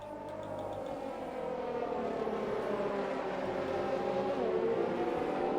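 Race cars on a formation lap at the Abu Dhabi circuit, a steady blended engine drone of several cars that holds at an even loudness throughout with no clear single pass-by.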